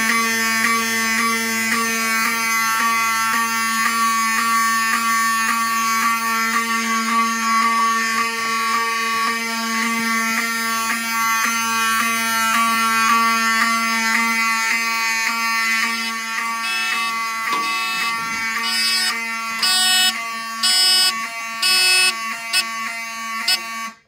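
A loud, continuous electronic fire alarm horn from doubled Wheelock 7002T units on a Simplex 4005 system test blares steadily, its buzzing tone joined near the end by rapid pulsing bursts from a second horn.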